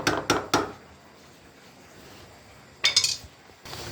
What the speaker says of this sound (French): là j'ai incorporé ma viande qu'on va remuer gentiment